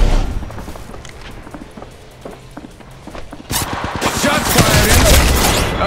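Gunfire in a mobile shooter game played on a POCO X3 Pro phone, with bursts of rapid shots and footsteps, then a denser, louder volley near the end, and someone commenting over it.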